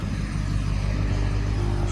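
Engine of a short bus with a small oil leak idling close by, a steady low rumble with a throbbing, even rhythm and no talk over it.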